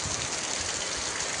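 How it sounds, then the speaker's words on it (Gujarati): Rain falls as a soft, steady hiss, faint and continuous, with no voices over it. "જો વરસાદ આવ્યો"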